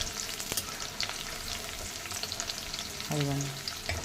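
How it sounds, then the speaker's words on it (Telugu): Garlic frying in oil in a wok-style pan for veg spring rolls, a steady close sizzle with a few clinks and scrapes of stirring, ending in a brief louder scrape. "బాండీలో నూనె పెట్టుకుని దానిలో వెల్లుల్లిపాయ బాగా వేయించాలి"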